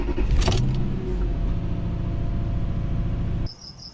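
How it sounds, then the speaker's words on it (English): A Lexus GX engine cranks briefly, catches and settles into a steady, loud idle close by. The engine noise cuts away sharply near the end, leaving only a faint high tone. "I'm going to start the car for a minute and then check the oil levels."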